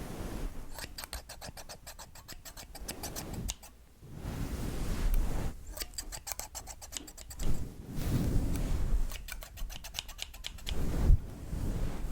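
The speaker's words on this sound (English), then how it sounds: "Let's use the other scissors." Close-up titanium scissors cutting hair snip in rapid rhythmic bursts, several quick runs of crisp cutting clicks separated by brief pauses.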